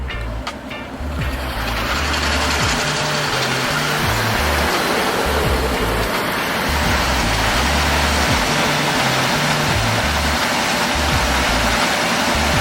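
A steady, loud engine rumble from a Cadillac Eldorado, just started after a dead battery, runs throughout with a low, uneven throb, idling close by with no voices.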